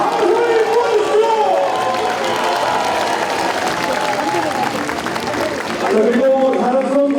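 Crowd at a Korean civic celebration event applauding and cheering loudly and steadily throughout, dense clapping with raised voices, a brief swell near the end.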